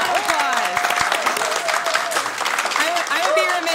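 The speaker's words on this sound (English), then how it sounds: "give a round of applause." A round of applause fills a city council meeting chamber, steady clapping from the crowd throughout, with voices talking over it.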